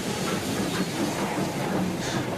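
Express train rolling steadily along the rails in a Thomas the Tank Engine story, a continuous rumbling clatter with a hissing wash on top, holding an even loudness throughout with no voices.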